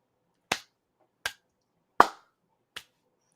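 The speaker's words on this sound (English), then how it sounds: "that was the sound of me doing like that thing where like one of the wrestlers" Hands slapped together in a dusting-off motion, four sharp isolated smacks spaced evenly about three-quarters of a second apart, close and crisp in a quiet room.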